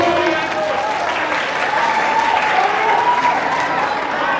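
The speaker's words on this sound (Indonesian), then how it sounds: "Tepuk tangan ini SMA 1 memang." High school students clap together in a room, a dense, sustained burst of applause that holds steady for several seconds with a few voices mixed in.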